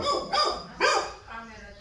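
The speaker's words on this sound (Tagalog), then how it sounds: "ini isa si Lulu, French Bulldog" A French Bulldog barks in short yappy bursts, two or three close barks, with people talking nearby.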